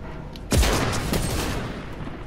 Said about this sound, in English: I forgot the shotgun does this